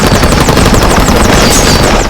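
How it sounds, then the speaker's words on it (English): Intense gunfire rattles around a helicopter during a Vietnam War battle, rapid machine-gun bursts and shots layered over a loud, dense roar, close and very loud for the whole stretch, with no voices. "The helicopter took a hit and started to auto-gyrate."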